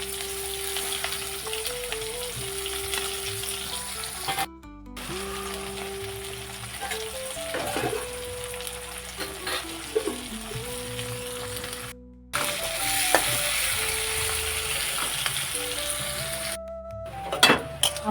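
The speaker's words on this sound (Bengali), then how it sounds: "এখন আমি পেঁয়াজটা দিয়ে দেব।" Onions frying in hot oil with a bay leaf for a Bengali chicken curry (murgir jhol), giving a steady, close sizzle that runs the whole time beneath background music.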